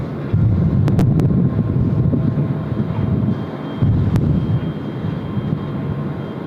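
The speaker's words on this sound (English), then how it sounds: "there goes Speedbird off runway 16 left. Back to Heathrow they go." British Airways jet airliner departing runway 16 left at Tokyo Haneda, a loud, steady low engine roar rumbling throughout with wind buffeting on the microphone and no talk.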